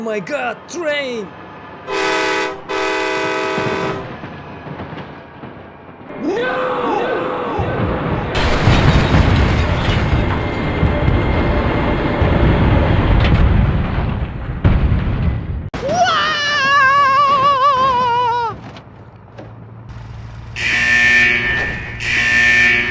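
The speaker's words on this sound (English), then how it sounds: "Oh my god, train!" Cartoon-style sound effects for a passing train: bursts of buzzy horn blasts and a long, loud rumbling stretch in the middle, followed by more horn and whistle tones, with voices in between.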